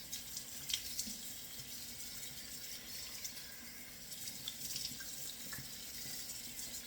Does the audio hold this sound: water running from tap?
yes